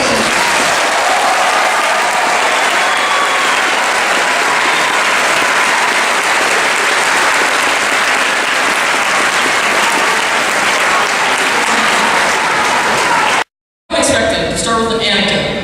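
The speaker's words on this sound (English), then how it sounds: "So give a cheer to the class of 2014." A graduation crowd for the class of 2014 cheers and applauds loudly and continuously in a dense roar, breaking off abruptly near the end before a brief return of voices.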